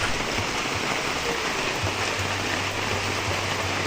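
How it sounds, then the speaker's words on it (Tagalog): Steady rain pours down with gusting wind over a farm field, a dense, constant hiss close by with low rumbling wind swells underneath and no voices. "Ay, may dala pang hangin yung ulan."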